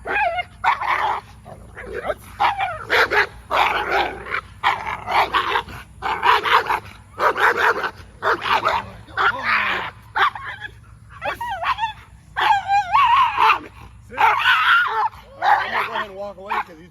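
An 8-month-old protection dog barks in rapid, loud bursts during bite training, its barks mixed with whines and yips, while a handler speaks between them.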